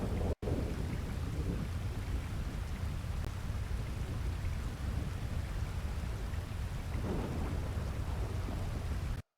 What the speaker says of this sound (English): Waterfalls plus rain equals 0 hearing you